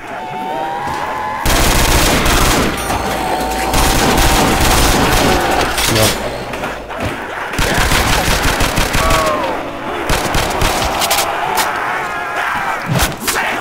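Machine gun fire in a zombie video game, long sustained rapid bursts with booming thuds layered under game sounds, loud and dense for most of the stretch with a brief lull midway.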